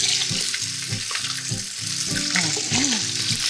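Pork ribs browning in a hot pan, a loud, steady sizzle with crackling spatters and some stirring clatter, close up with no talk.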